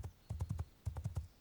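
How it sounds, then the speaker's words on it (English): Horse from the game Vigil: Cold Snap trotting in two quick bursts of clip-clopping hooves, each a rapid run of four or five hoofbeats, fairly close and moderately loud, with no clear whinny standing out. "there's just a very large whinny from the horse, and the pace picks up"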